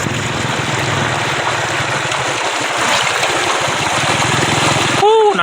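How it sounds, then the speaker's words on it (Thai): Floodwater rushes during heavy flooding in rural Laos, making a loud, steady churning wash close by, with a brief tonal sound just before the end. "น้ำไหลมาแห้งทุกคนเลยเป็นไง"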